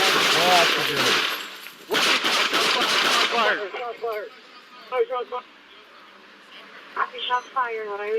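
Loud, dense bursts of gunfire from a police shooting at a man hiding in a car's back seat fill the first few seconds, then give way to shouting voices.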